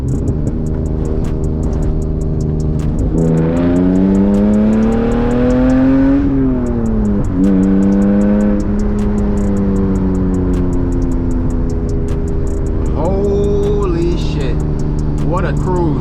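A manual BMW E36 engine revs hard while driving through hills, its loud rising and falling tone sweeping up and down through gear changes, with brief talk over it.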